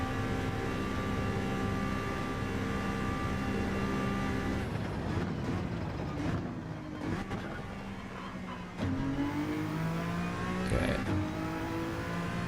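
A race car engine in Gran Turismo 7 holds a high, droning rev through a corner, dips briefly, then climbs again after an upshift, loud and continuous throughout.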